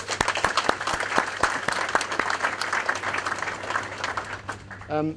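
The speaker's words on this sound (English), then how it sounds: "deserves a bit of a round of applause for his work" An audience at the official opening of the Charles Sturt University Port Macquarie campus applauds, sharp individual claps over a steady crowd patter, with a voice breaking in at the very end.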